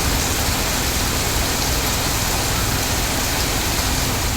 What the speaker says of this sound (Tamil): பலத்த காற்றுடன் கனமழை பெய்தது.